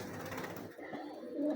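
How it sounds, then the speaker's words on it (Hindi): Salare breed pigeons giving a soft, low cooing close by, a brief murmuring call rising near the end of a faint, quiet moment. "ये सलारे कबूतर हैं उनके पुराने"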